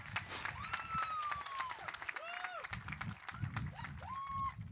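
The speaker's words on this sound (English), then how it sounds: "One more round of applause." A high school graduation audience claps in a dense, fairly distant patter, with a few rising whoops and cheers cutting through.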